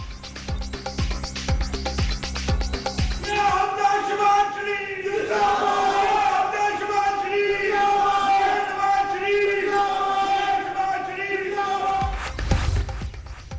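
Inside the Governor House during a swearing-in ceremony, a crowd of officials and party supporters chants slogans in loud, sustained unison. The voices rise and fall in rhythmic bursts, with clattering noise at the start and end.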